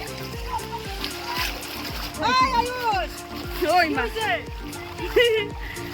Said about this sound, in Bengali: এই দেখো জল